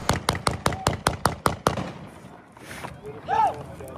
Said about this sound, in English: At that moment, bursts of gunfire erupt close by, at least 15 shots.